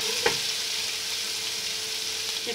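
Ginger garlic paste hits hot oil left over from frying onions, giving a steady loud hiss and crackle with a brief clatter at the start, nearby and without talk.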